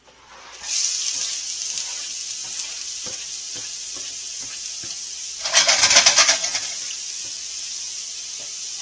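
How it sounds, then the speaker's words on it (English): Chopped onions hit hot olive oil in a saute pan and start a steady sizzle, with a louder crackling burst of frying partway through as they settle into the oil. "So we're going to throw in the onions that we just cut."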